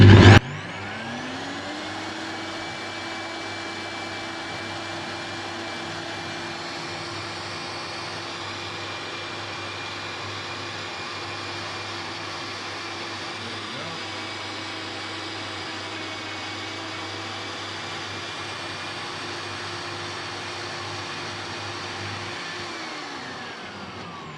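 A NutriBullet blender runs continuously, grinding dried moringa leaves into powder. The motor makes a steady, loud, even whine that starts abruptly and holds for about twenty-four seconds before winding down. No one speaks.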